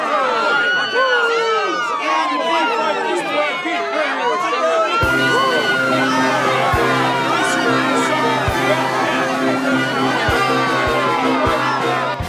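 Angry protest crowd outside an office, a loud mass of shouting and whooping voices throughout, joined midway by steady rhythmic thuds and a sustained droning tone under the clamour.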